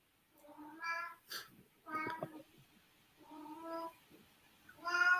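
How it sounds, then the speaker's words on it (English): A cat outdoors meows repeatedly, several drawn-out, whiny calls spaced apart, fairly close, with brief sounds between them. "You can probably hear my cat in the background."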